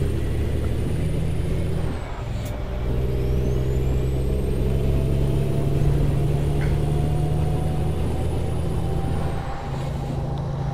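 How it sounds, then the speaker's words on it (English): A truck engine idles and runs steadily in American Truck Simulator, a loud continuous low rumble with a hum through the whole stretch and faint whines above it, with no talking. "Engine doesn't sound too bad in this truck though"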